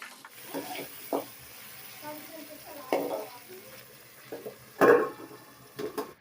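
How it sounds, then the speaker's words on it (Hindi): Tadka tempering being added to dal while cooking in a village kitchen, with short bursts of sizzling and frying and stirring clatter, plus a louder hiss near the end, heard fairly close. "और अब दाल में तड़का लगा रही हूँ"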